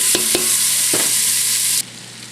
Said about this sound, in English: So I'm just going to let that cook for a little bit.